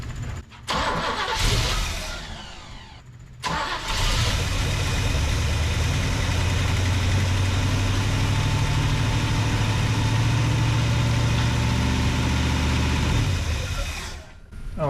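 A Big Block Chevy engine being tried out in a Suburban, cranking briefly, falling quiet for a moment, then catching and settling into a loud, steady rumbling idle up close.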